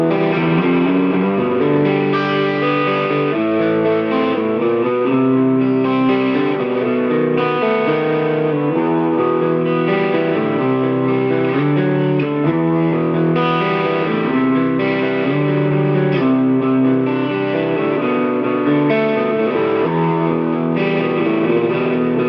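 Electric guitar played through a Marshall JCM900 SL-X and a Splawn Nitro amp at once, a harsh, crunchy chorded riff ringing continuously and loud with no talk.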